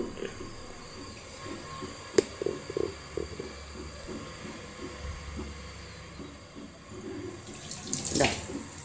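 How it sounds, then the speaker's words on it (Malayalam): Quiet trickling and splashing of water poured in short bursts over idli, close by, with faint clinks and a louder splash near the end. "കുറച്ച് വെള്ളം ഇങ്ങനെ ഒന്ന് ഒഴിച്ചു കൊടുക്കുക, കുടഞ്ഞു കൊടുക്കുക."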